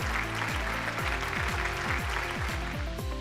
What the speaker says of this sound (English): A round of applause for Tata Motors Finance